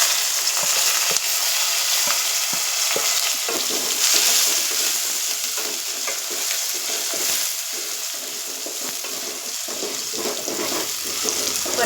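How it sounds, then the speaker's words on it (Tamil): Tomato, shallots, curry leaves, green chilli and garlic sautéing in a pan, a continuous crackling sizzle with scattered stirring clicks, close and fairly loud with no talking. "இப்போ நல்லா அது வதங்கி வரட்டும்"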